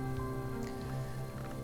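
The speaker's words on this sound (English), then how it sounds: "we are going to see what the weather is. Okay, a rainy day." Steady rainfall from the video game Book of Hours, a soft even patter that continues throughout, with no talking.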